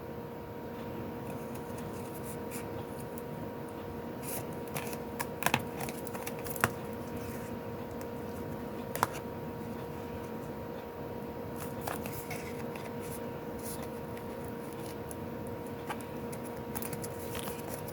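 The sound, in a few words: cutting paper for a junk journal embellishment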